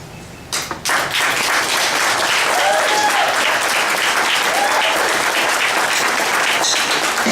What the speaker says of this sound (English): Put your hands together for J.A.